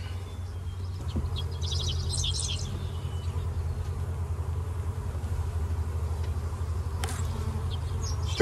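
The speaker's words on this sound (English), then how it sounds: "So it's got a bunch of bees in it." Bees buzz steadily in a hive in a low, continuous drone close by, with a few faint birdcalls in the background.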